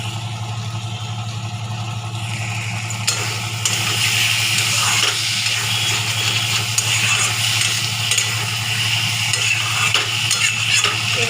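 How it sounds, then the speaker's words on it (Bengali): Spice paste for a winter bhetki fish curry with potatoes is stir-fried in oil. A loud, continuous close sizzle carries repeated scraping stirs and a low steady hum underneath. "এরকমই কষাতে কষাতে দেখবেন তেল ছেড়ে যাবে, তখন জানবেন যে কষানো হয়ে গেছে।"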